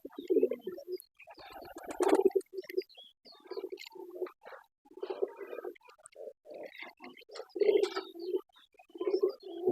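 Pigeons coo in repeated low, throaty bursts, several birds overlapping close by, with brief pauses between calls and a short rustle near the start.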